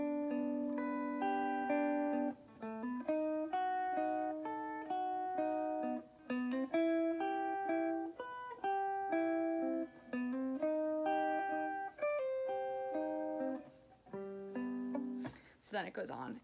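An intro of a song played on guitar as a steady run of picked notes and chord tones in an even repeating pattern, close but fairly soft, ending in a short burst of noise.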